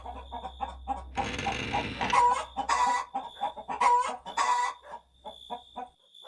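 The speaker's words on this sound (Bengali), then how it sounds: "খাঁচার মুরগিগুলো হট করে ছটপট করতে লাগলো এবং জোরে জোরে ডাকতে লাগলো" Caged chickens in a coop cluck and squawk loudly in an agitated burst, with a steady background hum and no talk.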